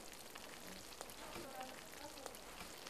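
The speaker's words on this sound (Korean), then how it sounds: "술이 끓는다." Makgeolli, Korean rice wine, bubbling as it ferments in a traditional home brew: a faint, steady crackling fizz like soft rain, quiet and continuous, with a few small pops.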